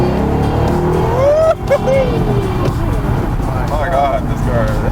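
A Saleen S7 Twin Turbo Competition hypercar accelerates hard under boost, its loud, close engine note climbing in pitch through the gears, with voices underneath.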